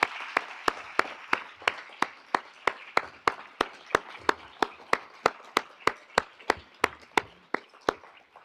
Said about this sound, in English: let's give another round of applause to all of these students